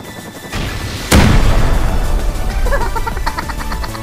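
An RPG rocket explodes in the survival game Rust: a sudden, loud, close blast after a brief lull, then a long rumbling decay with scattered crackling debris.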